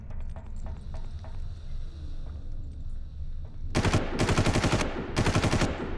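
Rapid bursts of automatic gunfire in Far Cry, loud and close, ring out in three volleys over a low, rumbling game background.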